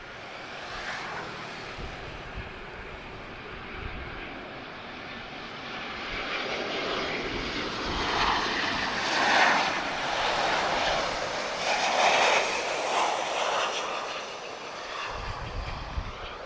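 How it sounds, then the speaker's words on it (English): A Ryanair airliner lands at Lisbon Airport with a broad, steady jet roar that swells gradually. It is heard from a distance over light wind noise, with no talk. "Ryanair just about to touch down now."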